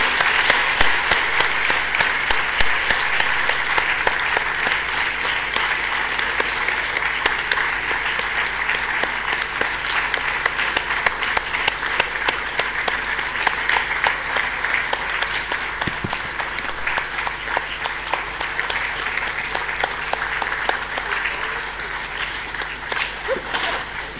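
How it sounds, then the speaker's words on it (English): Sustained, dense applause from a large audience fills a hall at a forum's closing ceremony, steady rapid clapping that tapers slightly near the end. "You can keep the applause going for this."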